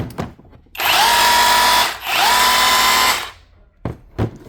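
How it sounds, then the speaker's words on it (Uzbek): Makita rotary hammer in hammer-drill mode, two loud close bursts of buzzing, rattling motor noise separated by a brief dip, followed by a few faint knocks after it stops. "Perforator rejimi."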